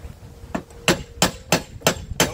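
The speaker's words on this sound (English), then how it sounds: "Don't mess up the pulley with the hammer." A hammer taps a stuck pulley on a John Deere E130 mower deck, five evenly spaced sharp metallic knocks ringing out close and clear with no talking.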